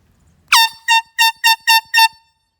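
Six loud air horn blasts from a set of four truck air horns, one long opening blow followed by five short, evenly spaced honks, close and clear with nothing else audible.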